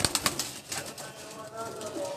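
Sialkoti pigeons on a rooftop, with a few quick wing flaps at the start and soft bird sounds beneath close-up talking.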